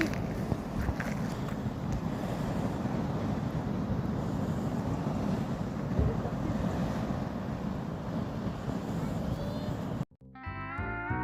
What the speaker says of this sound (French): là on avait les vagues, la mer, c'est assez tranquille